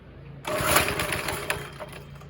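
A 5.5HP Briggs and Stratton go-kart engine revs up from idle, a loud continuous engine roar that swells quickly and then holds steady with slight surges.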